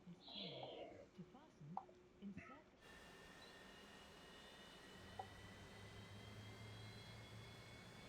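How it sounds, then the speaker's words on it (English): A Fokker F70 jet engine spools up in Microsoft Flight Simulator 2024, a steady broadband roar with rising whine tones holding constant and faint after a few soft clicks and rustles at the start. "we'll turn off this little thing here just to see our engine spooling up"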